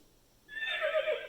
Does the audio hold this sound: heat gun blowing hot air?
no